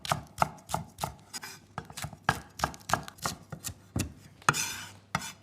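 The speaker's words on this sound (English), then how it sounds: "Let's slice our scallions." A knife slicing scallions on a cutting board, giving a steady run of crisp, close chopping taps about twice a second.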